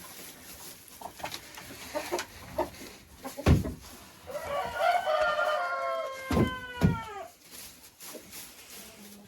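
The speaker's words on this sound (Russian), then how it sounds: "А вот в помещении смотрите, как съедают быстро куры." Hens in an indoor henhouse make scattered pecking taps and knocks at a feeder, and a clear clucking, crowing call rises in the middle of the stretch, all at moderate distance with no voices.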